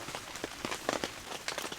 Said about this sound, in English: So this rain is getting in now.